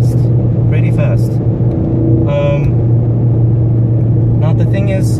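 A 2016 Ford Focus RS engine drones steadily at highway speed, a low constant hum with road rumble throughout, while a person talks over it in short bursts.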